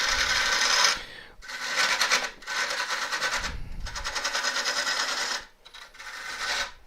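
A half-inch gouge on a lathe cuts into a spinning elm burr bowl, giving rough raspy scraping bursts in several passes separated by short pauses, close and loud.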